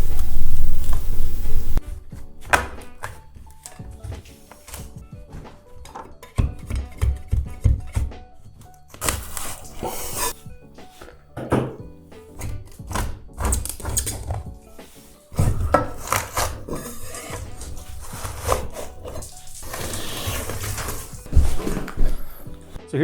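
Ceiling tiles being chipped and pried off drywall where they are glued with circles of silicone-like adhesive: sharp knocks, scrapes and cracking bursts come in irregular clusters, close and fairly loud, with no talking.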